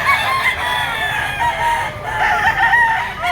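A Black Boston stag rooster crows loud and close, a strained, wavering call filling the whole moment with no talk over it.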